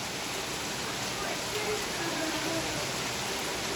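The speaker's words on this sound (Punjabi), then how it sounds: "ਓਹ ਬਾਰਿਸ਼ ਵਾਹ" Steady rain falls outdoors, a dense, continuous hiss of drops that stays even and fairly close for the whole stretch, with no clear voices over it.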